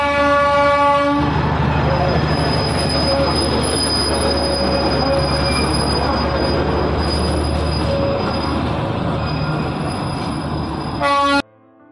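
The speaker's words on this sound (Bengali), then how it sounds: "আজকের ট্রিপে প্রথম থেকে শেষ পর্যন্ত টয় ট্রেন আমাদের সঙ্গী ছিল।" A toy train on the North Bengal hill railway out of Siliguri rumbles close and loud, its wheels squealing continuously, with horn blasts at the start and end before the noise cuts off abruptly.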